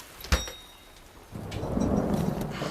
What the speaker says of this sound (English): Ah, it's torrential.